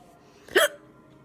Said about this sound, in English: I have atrocious hiccups.